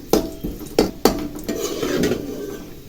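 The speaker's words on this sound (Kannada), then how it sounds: "ಎಣ್ಣೆ ಕಾದ್ಮೇಲೆ ದ್ರಾಕ್ಷಿ ಗೋಡಂಬಿ ಹಾಕೋತಾ ಇದ್ದೀನಿ. ಸ್ವಲ್ಪ ಫ್ರೈ ಮಾಡ್ಕೊಳ್ಳಿ ಲೈಟಾಗಿ." Raisins and cashews fried lightly in hot oil in a pan: a few sharp metallic clinks of a spoon against the pan over a soft, steady sizzle, with no voices.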